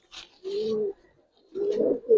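Pigeons coo close by, two soft low rolling calls separated by a brief pause, with a short higher note at the end.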